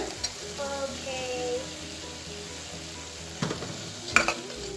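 Green chillies and curry leaves sizzling with onion in a frying pan for chicken biryani, a low steady sizzle with a couple of sharp metallic spoon clinks against the pan.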